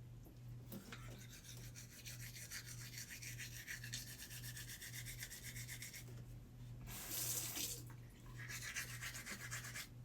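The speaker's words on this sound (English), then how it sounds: "You know when you have to use water when you brush your teeth?" A toothbrush scrubs teeth in steady, close back-and-forth strokes with a faint moist edge, over a low pulsing hum, with a brighter, harsher burst of scrubbing near the end.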